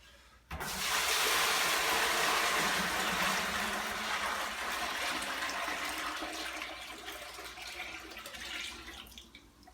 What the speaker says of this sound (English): we got the strike water coming in. 7 gallons.